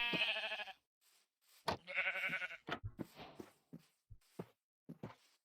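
Two loud, wavering bleats from a lamb in Minecraft with a game-like clean tone, followed by scattered soft clicks and thumps.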